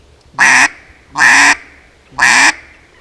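A duck call imitating a hen mallard gives three loud, close quacks, evenly spaced and each held briefly, with quiet gaps between them.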